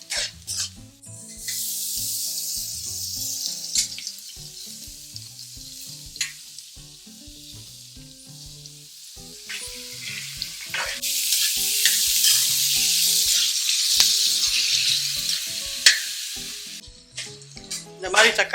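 Tomatoes and onions sauté in a pan for fish curry with a continuous close sizzle that swells and fades, broken by repeated stirring scrapes and taps.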